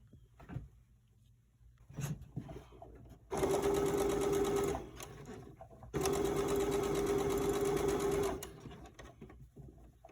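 A sewing machine stitching the lining of a fabric face mask, running in two loud, steady buzzing bursts of a few seconds each with a short pause between, close up, preceded by quiet handling of fabric.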